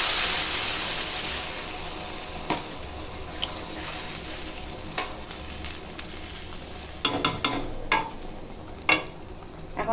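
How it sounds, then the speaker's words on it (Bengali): Chicken and potatoes fry in oil as they are stirred, giving a steady close sizzle under clustered scrapes and knocks of a spoon against the pan, louder in the second half. "মাংসটা দেখো এখন কষানো হয়ে গেছে, এই যে দেখো তেল ছেড়ে দিচ্ছে।"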